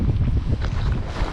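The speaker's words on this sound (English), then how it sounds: "It's a beautiful day, but a little bit cool wind here." Cool wind while kayaking on a river in Vilnius, Lithuania, in an Advanced Elements Packlite: steady, low buffeting wind rumble across the microphone, close and fairly loud.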